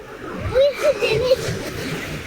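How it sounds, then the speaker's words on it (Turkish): A sea wave washes over a small sand road built by a child on a beach during a summer holiday, giving a soft close splash and slosh while a voice rises and falls over wind noise. "Eymen dalga geldi."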